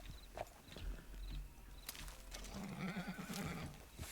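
A horse whinnies in the video game Red Dead Redemption 2, a short neigh near the start followed by a louder, wavering whinny later, with soft hoof steps and game ambience underneath.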